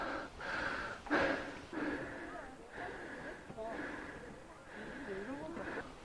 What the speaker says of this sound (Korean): 나의 거친 숨소리를 오랜만에 들어본다